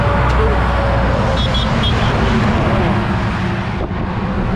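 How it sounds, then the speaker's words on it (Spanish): Heavy trucks roar past on a highway in Tocantins, Brazil, a loud, continuous low rumble with wind buffeting that swamps the scene, while voices sit faintly beneath it. "estos camiones no dejan hablar"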